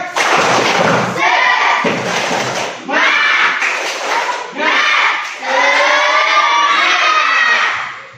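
A class of children shout a chant together in loud bursts, with claps and thumps keeping a rhythmic beat, close and energetic, in a classroom.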